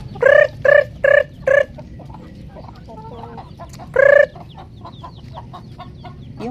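Hens clucking in loud bursts, a quick run of four followed by another after a pause, with softer chicken calls and farmyard background noise between them.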